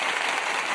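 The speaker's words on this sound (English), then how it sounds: "Give this nigga Dogface a round of applause, gang" A short, dense burst of applause, many hands clapping together in a steady wash of sound from start to finish.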